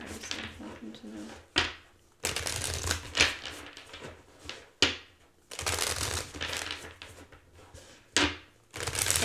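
Loud bursts of cards being shuffled, riffled several times in rapid, rustling waves with short pauses between, close to the listener.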